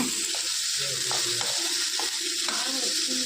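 Mustard seeds tempering in hot oil, a busy crackling sizzle with sharp pops scattered throughout, close and steady, with no talk.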